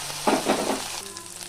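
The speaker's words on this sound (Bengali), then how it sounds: "পেঁয়াজটা কিছুক্ষণ ভাজা হয়ে যাওয়ার পর দিয়ে দিচ্ছি আদা বাটা রসুন বাটা" Ginger and garlic paste dropped into hot oil with frying onion and green chili: a loud burst of spattering sizzle that settles into a quieter steady hiss.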